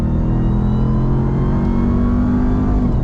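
A 2021 Ram TRX pickup in sport mode accelerating hard, a loud sustained engine roar heard from inside with its pitch climbing steadily through the run, no talking over it.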